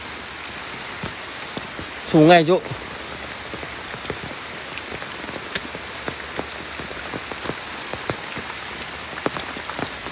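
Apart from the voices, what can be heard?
rain falling in the forest on Gunung Salak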